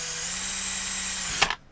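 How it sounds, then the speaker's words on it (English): A power drill bores a hole into wood, a steady high whine that runs on, then breaks into a brief grinding burst before stopping abruptly, close and loud. "How nice and easy that drills."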